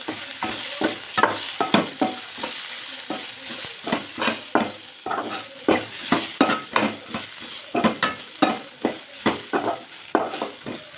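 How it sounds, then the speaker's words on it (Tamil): Fresh coriander and mint sautéing in a pan for tomato chutney, a steady sizzle broken by repeated scraping strokes of a spatula stirring the leaves in a brisk, uneven rhythm. "கொத்தமல்லி கூட புதினா போட்டுக்கோங்க. எதையும் கருக விடாமல் வதக்கிடுங்க."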